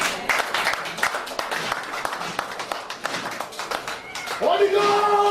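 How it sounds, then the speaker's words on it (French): A church congregation applauding and cheering for Jesus, dense clapping from many hands throughout with voices mixed in, and a sung or shouted tone rising near the end. "Acclamons pour Jésus le roi."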